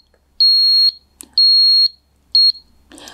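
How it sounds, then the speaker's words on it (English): FIBARO flood sensor sounding its acoustic alarm: three loud, piercing high-pitched beeps, the first two about half a second long and the last shorter, separated by near silence with faint handling clicks. "you can also check after the configuration if the acoustic signal is working fine"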